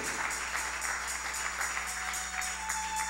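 A church congregation applauding during a Spanish-language service on the laying on of hands, a rhythmic, fairly soft clapping in a steady beat over a constant low hum.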